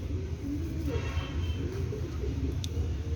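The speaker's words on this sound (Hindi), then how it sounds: "बड़ा कुशादा पल्ले का माशाल्लाह कसूरी कबूतर है।" A Kasuri pigeon coos softly in low, rolling notes against steady background hum and noise.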